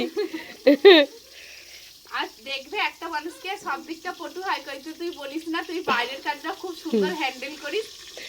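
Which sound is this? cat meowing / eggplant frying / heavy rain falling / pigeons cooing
eggplant frying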